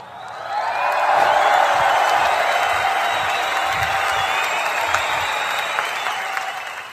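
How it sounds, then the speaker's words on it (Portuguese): Sustained applause from a theatre audience, steady and full, swelling in the first second and then holding with a broad wash of claps and a few faint cheers and whoops, no talking over it. "Aplausos."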